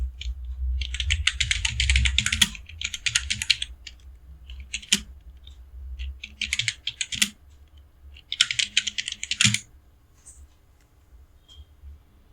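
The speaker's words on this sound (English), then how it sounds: "Type the text you want to appear." Bursts of typing on a computer keyboard while entering text into a word processor, rapid clustered key clicks in several runs separated by pauses, close and fairly clear with a faint low hum underneath.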